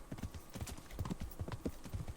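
Horse hooves clip-clop in a steady, even rhythm in Kingdom Come: Deliverance, with close, distinct footfalls repeating throughout.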